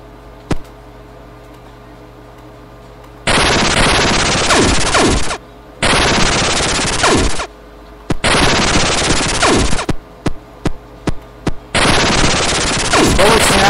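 Loud bursts of rapid automatic gunfire from a weapon in the video game Radioactive Decay, several sustained volleys separated by short pauses and a few single shots, close and dominant.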